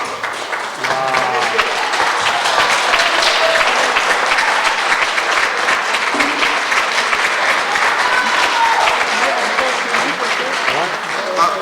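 Sustained applause fills a French evening talk show studio, dense steady clapping from the audience throughout, with voices faintly mixed beneath the roar.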